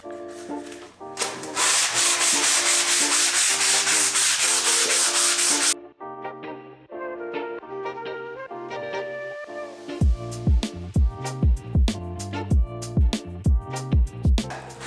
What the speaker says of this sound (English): we're gonna start off with some sanding so we can get our piece ready